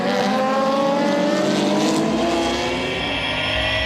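A pack of Supercar Challenge race cars at Spa-Francorchamps rolls into a start, engines roaring loud and close with layered revving that builds and shifts, with no talk.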